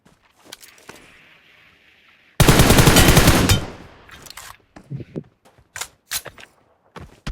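Gunfire in the PUBG video game: a dense automatic burst lasting about a second, loud and close, followed by scattered single shots and softer impacts.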